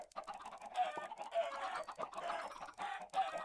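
Minecraft chickens cluck repeatedly in a steady, busy stream, fairly close and clear, with a few sharper squawks mixed in.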